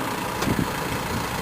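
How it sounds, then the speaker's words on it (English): A tractor idles and rumbles steadily while pulling a Princeton planter loaded with Green Giant trees, moving slowly across a field; the engine drone holds a constant level with a brief louder patch partway through. "The tractor is always going to move at a slow rate"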